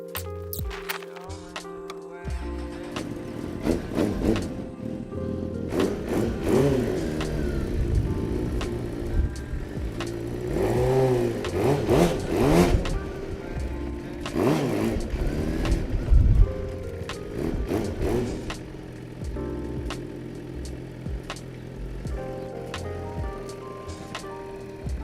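Motorcycle engine revving repeatedly as a beginner rider attempts a standing burnout, uneven bursts of throttle rising and falling with some tyre scrub and rougher surges midway, fairly close over background noise.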